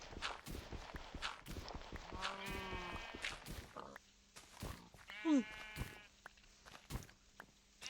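Minecraft video game sheep let out two clear bleats, one mid-clip and one near the end, over blocky footstep and clip-clop sounds while players talk quietly in the background.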